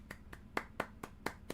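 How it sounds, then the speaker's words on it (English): Slow, quiet golf clap: seven separate, evenly spaced hand claps from a single person, close to the mic but soft, with no other sound between them. "Golf clap."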